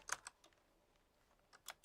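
Computer keyboard typing in bursts of a few sharp clicks, with a pause in the middle, close and fairly quiet, alone without talk.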